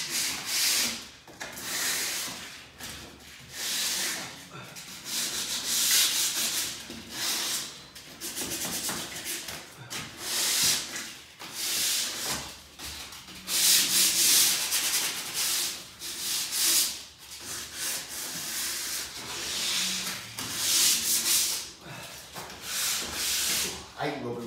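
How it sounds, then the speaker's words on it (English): Sandpaper scrubbing by hand over an MDF frame while painting a new-build house: loud, close, rasping back-and-forth strokes in an uneven rhythm that runs almost without pause. "I hate rubbing frames down."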